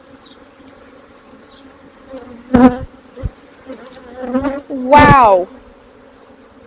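Honey bees hum and buzz around an open beehive packed with capped honey, a steady drone with a few louder passes close by, and a single short exclamation from a person.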